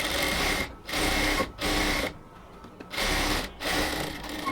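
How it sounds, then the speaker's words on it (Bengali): An electric sewing machine stitches a blouse in five short, even bursts of rapid whirring, each separated by a brief pause, close and clear with no talking. "এবার এখানে একটা চাপ সেলাই দিয়ে নিব।"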